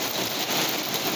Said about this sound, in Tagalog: Ayan, yelo po ang ulan ngayon mga kapatid.